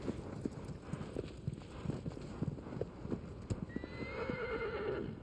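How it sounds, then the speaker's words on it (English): In Shadow of the Colossus, a horse's hooves clip-clop in a steady galloping rhythm, then a high whinny rises near the end over the continuing hoofbeats. "Yeehaw, little horsey."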